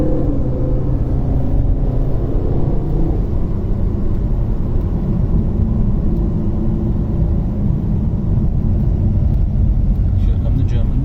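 Volvo S60 Cross Country pulling hard on the road, a steady loud engine and tyre rumble with road noise throughout, the drone rising as the car lurches forward.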